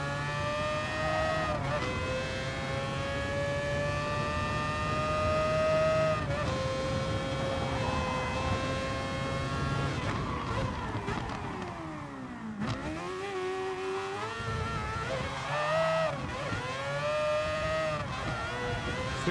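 A race car engine in the video game Gran Turismo Sport revs and climbs steadily through the gears, with gear shifts, a deep dip on braking and renewed acceleration, loud and continuous with no talk.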